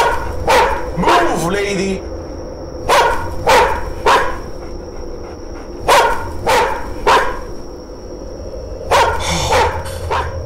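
Dog barking in the horror game Chilla's Art The Karaoke, a series of loud, sharp barks in spaced bursts, some doubled, mixed with someone talking over them.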